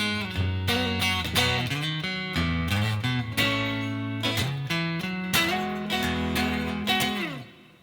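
Electric guitar plays the intro to a song, a steady run of plucked chords and bass notes with clear, ringing tones, close and alone until it fades at the end.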